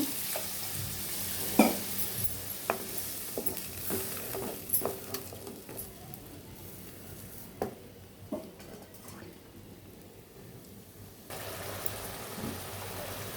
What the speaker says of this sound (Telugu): ఇప్పుడు వాటర్ వేసాను కొంచెం